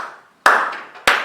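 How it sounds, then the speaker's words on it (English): People in a congregation clap together at a natural pace, two sharp, loud bursts of hand claps close by, with a short silence between them. "if you tell any congregation to clap, they will clap at that particular pace"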